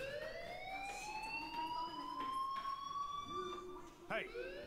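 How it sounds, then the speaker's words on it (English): A school fire alarm in the Life Is Strange video game sounds continuously as a steady electronic tone with slowly wavering pitch, fairly faint and even throughout, with brief voice-like sounds near the end. "Hey, do you hear that fire alarm? That means you should be outside."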